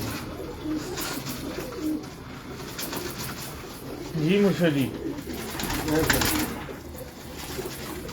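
Shah Parwazi pigeons coo in soft repeated bursts amid constant background noise, with someone speaking intermittently over them.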